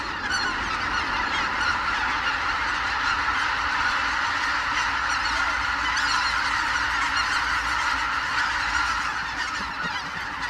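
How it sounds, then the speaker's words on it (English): A large flock of white-fronted geese honks without pause, many overlapping calls forming a dense, steady clamour at moderate distance over a northern lake in winter. "White-fronted geese, swans and ducks seek out the few northern lakes that will not completely freeze over."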